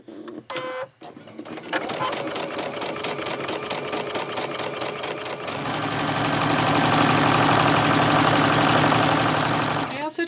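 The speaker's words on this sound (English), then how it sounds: "Take the additional step of serging the edges of the piping because I don't want any raw edges inside my bodice" A serger overlocks the edges of silk piping for an 1850s tiered silk skirt bodice, its rapid mechanical whirr running steadily and growing louder and denser toward the end, after a brief start-stop at the beginning.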